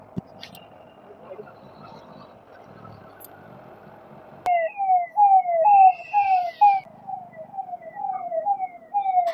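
A police van siren starts up abruptly and wails in a rapid rising yelp, repeating loudly over low background noise and traffic on a road under construction in Amaravati.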